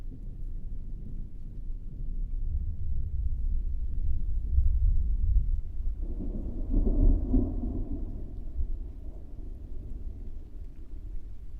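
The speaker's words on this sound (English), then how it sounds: "Do you have a big storm going on right now, Richards?" A thunderstorm rolls outside with deep, sustained thunder rumbling low and distant, swelling to a louder peak midway before fading, with faint rain beneath and no talking.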